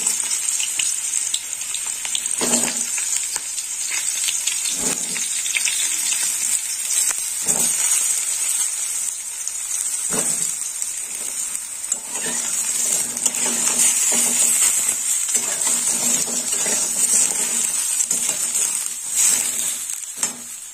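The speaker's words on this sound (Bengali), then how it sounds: "বেগুনগুলো এবার ভেজে নেব।" Cubed eggplant fries in hot oil with a loud, continuous bright sizzle, broken every few seconds by low knocks and scrapes of a spatula stirring the pan.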